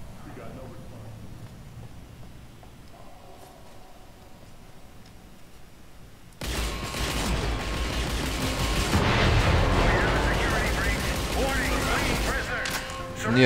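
Rapid automatic gunfire from The Chronicles of Riddick: Escape from Butcher Bay erupts after a quieter stretch and continues as dense, loud bursts, with people talking over it.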